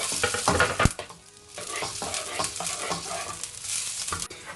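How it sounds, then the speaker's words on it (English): Onions frying in hot oil in a wok for chicken fried rice, a close, steady sizzle broken by a few sharp clinks and scrapes of stirring, with one louder knock near the start. "Then I'm going to fry the onions."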